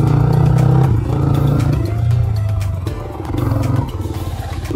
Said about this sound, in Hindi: मैंने अपने बाइक की एग्जॉस्ट पे लगा रखा है डीबी किलर, जिसकी वजह से साउंड काफ़ी ज़्यादा अभी लो है।